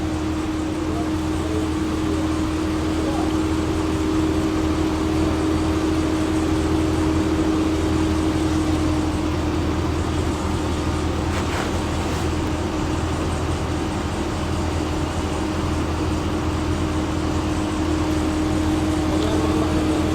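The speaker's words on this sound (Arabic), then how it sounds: "الماكينة فيها تفتفة" A 2013 Chevrolet Caprice engine idles with a misfire and smoke, giving a continuous loud, steady drone with a faint uneven stumble throughout.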